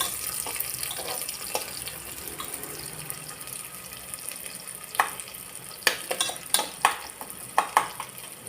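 Sliced onion and coconut pieces sautéing in a pan, a soft continuous sizzle with a run of sharp spoon scrapes and clinks toward the end.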